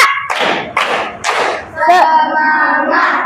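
Children in a primary school classroom at SDN Kebalen 03 in Bekasi clap in counted rhythm, four sharp evenly spaced bursts of hands, followed by voices talking.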